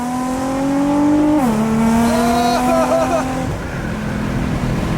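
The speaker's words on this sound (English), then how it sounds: "just listen to the downshift" A widebody Nissan GTR drops a gear with a loud, rising engine note. The pitch falls sharply at the shift and then settles into a steady drone that fades slightly at the end.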